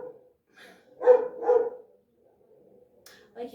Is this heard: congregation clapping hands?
no